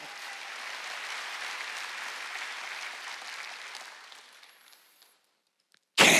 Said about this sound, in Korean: 박수. 생각을 바꿔.